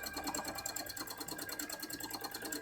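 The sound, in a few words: embroidery machine stitching filling stitches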